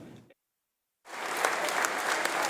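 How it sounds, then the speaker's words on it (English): A crowd claps in sustained applause for veterans, starting abruptly after a short silence and holding steady, dense and close. "that's just the sound of people clapping"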